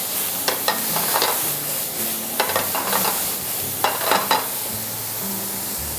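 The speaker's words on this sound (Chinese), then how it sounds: "好，接下来我们就先放洋葱。 洋葱进来的同时，大蒜其实就可以进来。" Onion and garlic frying in rendered chicken-skin fat, a steady close sizzle broken by repeated stirring strokes and scrapes in a pan.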